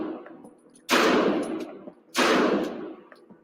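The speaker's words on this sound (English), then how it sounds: "The first gun I'm going to have you shoot here, it's going to be a Glock Model 19 9mm, professionally made by Glock" Two loud, sharp gunshots from a Glock Model 19 9mm pistol, fired close by about a second apart, each with a ringing decay over quiet background.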